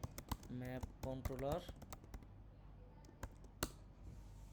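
Code is typed on a computer keyboard in sharp, scattered keystroke clicks, close and fairly faint, partly under someone speaking and then alone.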